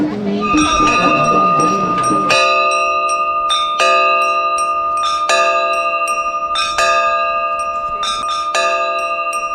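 A temple bell at Kedarnath rings with a series of loud, close metallic clangs, each bright strike ringing on and overlapping the next, with a brief murmur of voices at the start.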